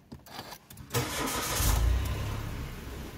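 A Mitsubishi Attrage car starts up with a push-button ignition: a brief cranking burst, then the engine catches and settles into a steady, loud idle close by.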